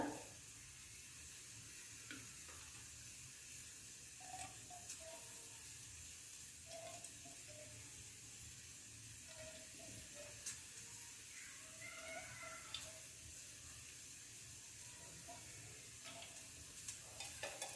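Oil heats in a pan with whole spices, cardamom, cinnamon and star anise, for Kolhapuri mutton, giving a faint, steady sizzle with occasional soft pops and clinks.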